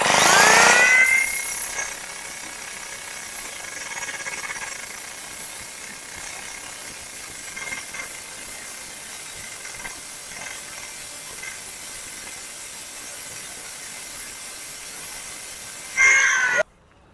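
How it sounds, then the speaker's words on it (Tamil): A cutting machine grinds down a metal shaft for a homemade 35cc two-stroke engine bicycle, giving a steady, loud, hissing high-pitched whine that runs unbroken for about fifteen seconds and then cuts off. "கட்டிங் மிஷினை வச்சு இப்படி கிரைண்டிங் பண்ணிகிட்டே இருந்தோம்னா அந்த சாஃப்ட் வந்து கொஞ்சம் கொஞ்சமாக கரைய ஆரம்பிச்சிடும்"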